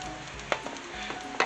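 Flour gets stirred into hot beef fat for a roux, making a low sizzle punctuated by several sharp scraping and tapping hits of a utensil against the pan.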